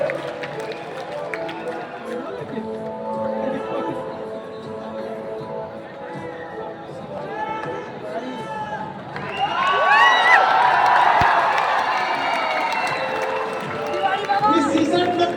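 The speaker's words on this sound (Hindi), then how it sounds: "तो जोरदार तालियों के साथ स्वागत कीजिए" Seminar audience in a Patna auditorium bursts into loud cheering and applause partway through, a dense crowd roar with whoops swelling over steady background chatter and music.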